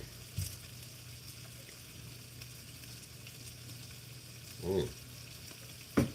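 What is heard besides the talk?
bacon sizzling as it fries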